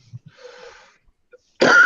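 Faint breathy rustles in near silence, then one sudden harsh cough from a sick man smoking a cigar bursts out close to the mic at the end.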